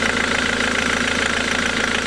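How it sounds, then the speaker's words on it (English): A Ford Mondeo diesel engine with a newly fitted bottom pulley runs at a steady idle. The hum is close and continuous, with a faint rhythmic knock underneath. "the pulley's spinning quite nicely. The noise is reduced a fair bit."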